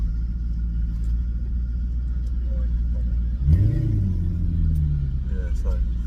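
A Maserati GranTurismo S engine rumbles steadily while driving in traffic, with a swell of revs and exhaust note midway that then settles back to a deep, close cabin drone.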